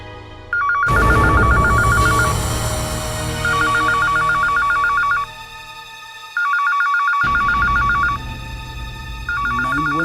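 A telephone rings in repeated electronic trill bursts, four ring cycles with short gaps, loud and close over a dramatic music bed, no talking.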